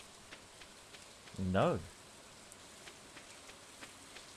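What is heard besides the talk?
rain in the video game Stardew Valley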